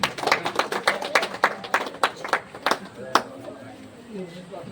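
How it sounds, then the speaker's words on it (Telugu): An audience claps at a temple opening ceremony in a village: a burst of sharp, irregular handclaps, fairly close, tapering off after about three seconds, with faint voices in the background. "చప్పట్లు కొట్టాలి"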